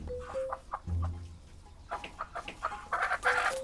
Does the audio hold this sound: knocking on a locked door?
no